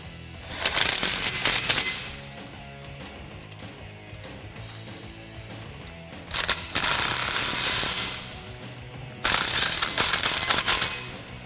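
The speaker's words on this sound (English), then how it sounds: "We're going to use a 15mm socket to tighten those clamps." A 15mm socket tightening exhaust clamps on a 2011-2014 Ford F150 3.5L EcoBoost, heard as three bursts of rapid, close mechanical clicking separated by quieter stretches of background noise.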